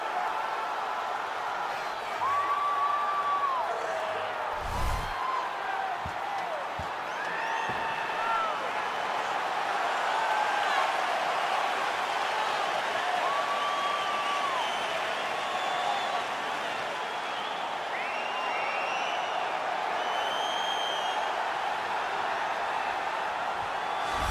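A sold-out arena crowd roars steadily before a flyweight championship bout in EA Sports UFC 4, a dense, continuous wash of cheering with scattered whistles and whoops throughout.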